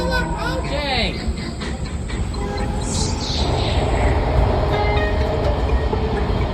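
A Washington Metro train roars loud and close as it enters a tunnel, with rising and falling metallic squeals and a steady rumbling rush. Faint voices can be heard under the noise.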